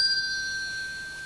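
Bells ring at Christmas with a clear, sustained metallic tone that slowly fades, heard alone and fairly close.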